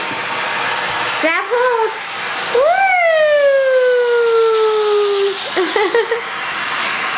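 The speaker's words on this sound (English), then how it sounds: "Is Daddy giving you a ride with the vacuum cleaner?" Vacuum cleaner running loudly with a steady whooshing roar, pulling a baby along the floor, while a man and a baby's playful vocal sounds rise above it.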